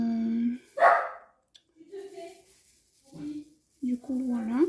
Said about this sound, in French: je suis désolée si vous entendez mon petit chien aboyer